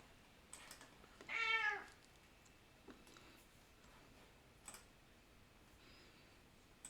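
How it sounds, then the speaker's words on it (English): A house cat lets out a single clear meow, close and fairly loud, with a few faint clicks and taps around it in an otherwise quiet room. "Fuck off, cat."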